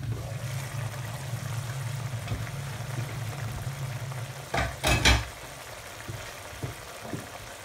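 Prawn masala simmers and fries in a pan with a steady low sizzle and bubbling, broken briefly by a couple of louder stirring scrapes partway through.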